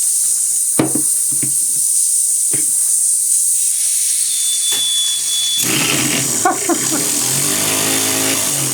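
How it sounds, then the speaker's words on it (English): A small model steam engine runs in a workshop, giving off a steady loud hiss of steam with scattered clicks and knocks; a faint whistle-like tone appears briefly, and people speak over it. "Tends to be hot when it's a steam engine"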